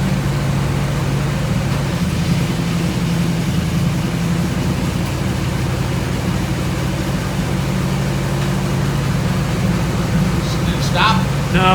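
A 1984 Chevy Blazer barn find engine runs with a steady low rumbling drone, close and continuous throughout, with a few faint rattles near the end.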